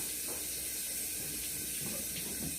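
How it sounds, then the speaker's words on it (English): Tap water running steadily into a sink while hands are washed, a soft, even hiss and splash, fairly quiet and unbroken, with no talking. "Let me wash my hands."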